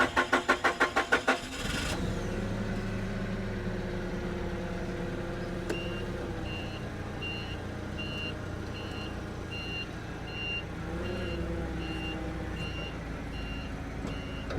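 A forklift engine cranks in a rapid stuttering burst, catches and settles into a steady mid-pitched idle, with a repeating reversing beep sounding nearby as the motor revs slightly.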